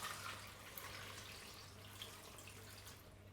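Water pours steadily and quietly into a pot packed with cardboard for mushroom growing, a soft continuous splashing hiss with no talking.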